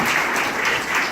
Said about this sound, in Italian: Un grandissimo applauso a Sergio Rani